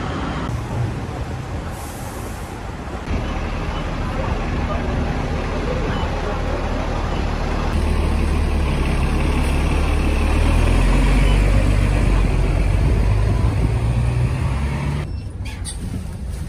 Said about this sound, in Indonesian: kita tumpangi yang bus lantai 2